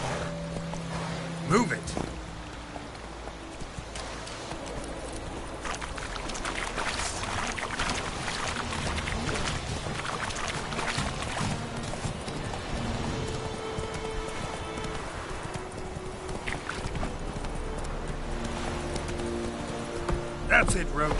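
Horse hooves clip-clopping while riding in The Witcher video game, a steady rhythmic clatter under a voice urging the horse on, with outdoor wind-like ambience throughout.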